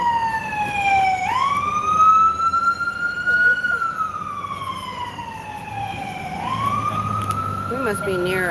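Emergency vehicle siren, an ambulance or fire truck, wailing loudly and close by with rising and falling sweeps over road traffic rumble, heard outdoors at a street protest.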